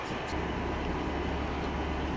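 Northern train 150106 running on the rails between Scunthorpe and Doncaster, a steady low rumble and rolling hum heard from inside the carriage, continuous and moderately loud.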